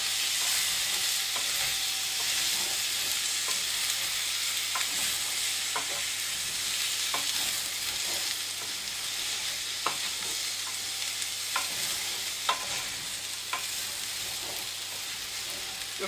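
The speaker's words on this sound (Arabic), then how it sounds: "وكنبقى كل مره كنحركها باش ما كتلصقش ليا" Sweet potato and raisins frying in a pan, stirred over and over: a steady close sizzle broken by scattered scraping clicks of the utensil, with no talking.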